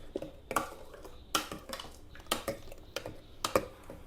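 Coconut first milk mixture being stirred in a bowl, with a spoon clinking and scraping against the sides in a run of sharp, close taps and knocks, no voices.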